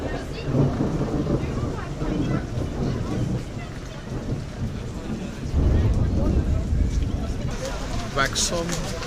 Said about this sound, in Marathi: वॅक्सॉम बेटावर आलो आणि वादळी पाऊस सुरू झाला